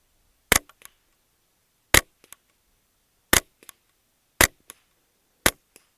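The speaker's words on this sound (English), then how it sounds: "So let's just see if this rifle happens to cycle them." A Legacy Citadel TRAKR .22 semi-automatic rifle fires five sharp, evenly spaced shots outdoors, each a loud crack followed by a faint mechanical clatter of the action cycling, with near silence between.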